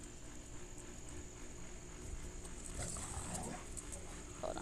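Dogs whimper and make small yips indoors, fairly faint and steady against a hissing room background.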